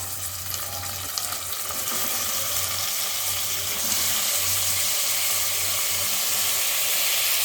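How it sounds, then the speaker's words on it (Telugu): Brinjal pieces with onions fry in a pan on a high flame, giving a steady, loud sizzle close by while being stirred, with no voices. "వంకాయ ముక్కల్ని ఇలాగా హై ఫ్లేమ్లో ఇలాగా మనం కలుపుకోవాలండి."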